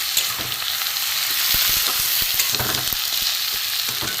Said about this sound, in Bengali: লঙ্কা হলুদ জিরে ধনে এটা ভালো করে আমি কষে নেব